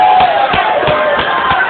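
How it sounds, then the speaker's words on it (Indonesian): A crowd at a regional government candidates' debate breaks into sustained applause with scattered cheers, a dense, continuous roar heard from within the hall. "Kita beri tepuk tangan meriah."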